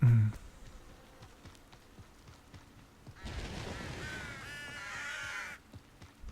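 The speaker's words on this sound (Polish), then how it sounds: "Ptaszki są." Crows caw in the video game Hogwarts Legacy, a cluster of harsh calls over a few seconds against a quiet ambient outdoor game soundscape.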